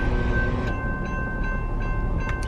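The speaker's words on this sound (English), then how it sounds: "I love the sound of a train." A train rolls past nearby with a dense, continuous low rumble and steady tonal hum, small rhythmic clacks showing through as it passes, loud and without any talking.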